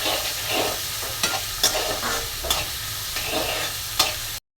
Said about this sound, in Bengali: পেঁয়াজের সাথে চিংড়ি মাছও দিয়ে দিচ্ছি। আমি সবসময় চিংড়ি মাছটা একটু ভেজে নিই।